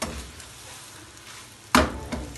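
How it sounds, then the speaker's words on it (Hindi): Green onions being stirred into chicken chowmein in a pan: a soft, steady sizzle gives way to a sudden loud scrape of the spatula near the end, then a second, smaller scrape. "हरा प्याज शामिल करने के बाद हम थोड़ा सा मिक्स करेंगे"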